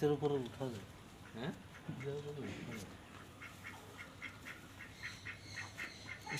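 Domestic ducks quack in a short burst of harsh, nasal calls near a farmyard with emus and chickens, followed by fainter scattered calls while someone talks over them.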